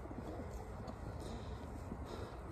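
A racing pigeon cock coos steadily over a loud, dense background rumble, the soft throaty calls barely rising above the constant noise.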